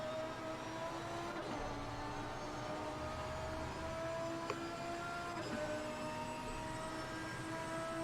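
A Lamborghini race car on a fast lap in Assetto Corsa Competizione, a steady onboard engine drone with slowly rising pitch and a couple of brief gear-change breaks.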